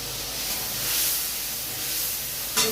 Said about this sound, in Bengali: মশলাটা ভাজা ভাজা হয়ে যাচ্ছে।